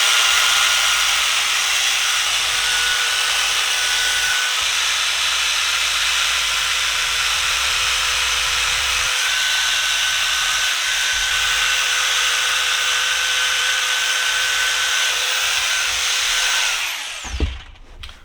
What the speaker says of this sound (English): So now that's gone off properly, I'm just going to roughly trim off it.